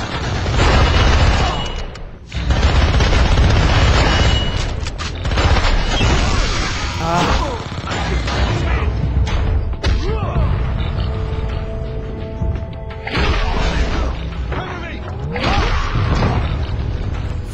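Rifle fire in the SpyHunter: Nowhere To Run video game, loud booming gunshots and bursts mixed with explosions and whooshes, dense and continuous, with a voice talking over the action.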